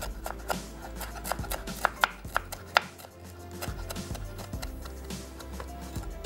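Parsley being chopped with a knife on a board in a home kitchen, a quick series of sharp taps that thicken into several louder strikes midway, set against a steady low hum, with no talking.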